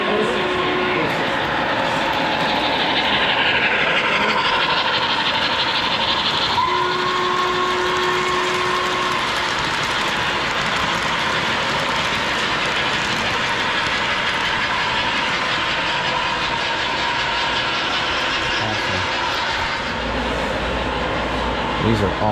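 Lionel and K-Line O-gauge model trains, including a New York Central Hudson, running on a home layout, with a continuous rumbling, clattering roll of wheels on track throughout and people talking over it.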